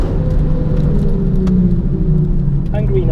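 Sports car engine rumbling steadily and loudly on the Zandvoort circuit during a track session, a continuous low drone with shifting revs throughout.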